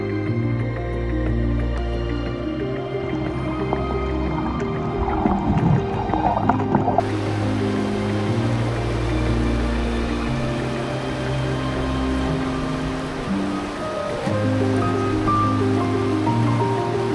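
Flowing water at a natural spring in Balochistan, a steady loud rush and gurgle that runs continuously and alone.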